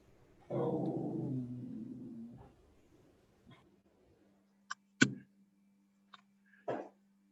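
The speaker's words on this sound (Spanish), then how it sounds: "Voy a silenciarme nomás porque el perro está ladrando." A dog barks a few times somewhere in a home during an online medical workshop, short sharp yips following a longer low rumbling sound, spread over several seconds against a quiet background with a faint steady hum.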